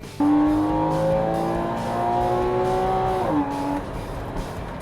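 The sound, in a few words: 2014 Porsche Cayman 275hp driving through tight turns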